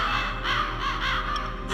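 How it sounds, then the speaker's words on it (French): Crows caw repeatedly in the video game Metal Gear Solid. The harsh calls come in several close bursts over a steady low in-game drone. "les corbeaux ne sont pas des nécrophages"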